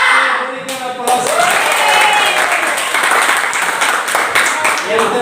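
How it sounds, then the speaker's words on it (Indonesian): Students in a classroom burst into steady applause, a dense, loud spread of clapping that carries on for several seconds, with voices murmuring underneath. "Berikan aplaus."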